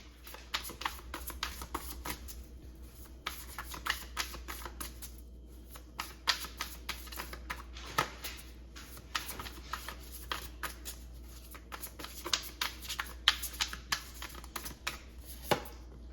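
Tarot cards are shuffled in quick, soft bursts of riffling clicks and flutters, repeated throughout at low volume with no talking.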